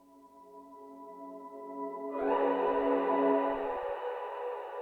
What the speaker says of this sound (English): isolated some frequencies, and created like a little tone that gets louder.